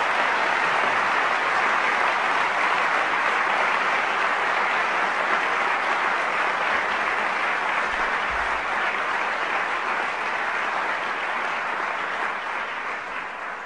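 A large audience gives the UN Secretary-General a long round of applause, a thick and even wash of clapping that holds steady and tapers slightly at the end.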